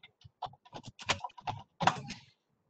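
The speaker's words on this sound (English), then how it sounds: "I'm typing that out too." Someone types on a computer keyboard in an office, quick irregular clusters of close, crisp key clicks separated by short pauses, heard alone without talk.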